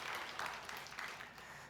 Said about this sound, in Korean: 격려 담아서 함께 박수하겠습니다.